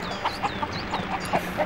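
Chickens in the PS2 video game Shrek 2 cluck in short, bright bursts roughly every fifth of a second over a soft hum of game ambience, with no talking.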